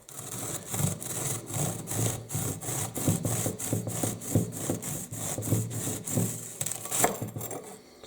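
Steady back-and-forth sawing of a knife through a crisp graham cracker with light pressure, a rhythmic dry rasping with regular strokes, close up and fairly loud.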